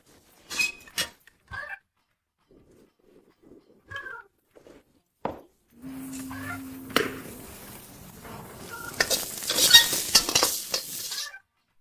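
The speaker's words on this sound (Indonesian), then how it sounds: "Buat nasi goreng lagi saja, ya." Fried rice stirred and fried in a pan, with scattered clinks of utensils, then a rising sizzle and scraping stir in the second half, fairly quiet overall.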